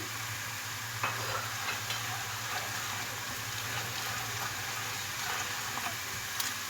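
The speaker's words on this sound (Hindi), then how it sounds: "ये देखें, प्याज हमारा फ्राई हो गया।" Dry spices go into browned frying onions and are stirred for spicy eggplant bharta, a constant close sizzle with scattered spoon clicks and a faint low hum beneath, no voices.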